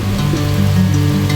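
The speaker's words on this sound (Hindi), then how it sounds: "और ये देखिए कितनी बारिश हो रही है।" Heavy rain pours down steadily while people shelter during a family trip to a temple, a dense continuous hiss with a low hum running underneath throughout.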